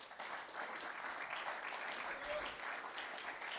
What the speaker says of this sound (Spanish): Da una ofrenda de palmas a Dios.